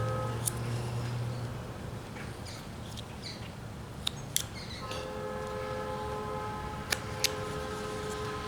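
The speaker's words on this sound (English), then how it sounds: "you hear the train in the background?" A train passes in the background with a steady low rumble and a sustained horn blowing partway through, while faint birdsong and a few sharp clicks come from nearby.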